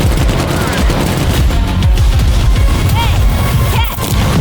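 Explosions and rapid gunfire from the zombie-shooter video game Toxic Commando, a loud continuous barrage of bursts and booms over a dense backing of heavy metal music.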